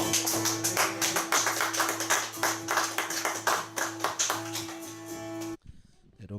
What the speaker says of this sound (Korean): 오늘 저희를 이 자리에 부르신 주님께 영광의 박수 드리겠습니다.